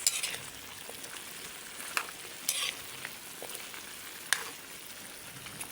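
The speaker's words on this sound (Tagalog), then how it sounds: "halo ko na yung potato and carrots guys" Potatoes and carrots being stirred into a pan of frying chicken curry, a soft steady sizzle broken by a few sharp scrapes of the spoon against the pan, close and fairly quiet.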